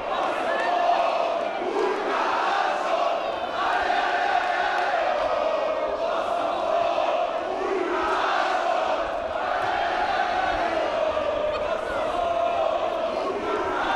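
Rival supporters of Nyíregyháza Spartacus and DVSC chant in a 2012 football stadium, a dense roaring crowd sustained throughout with rising and falling waves of voices, a commentator speaking over it.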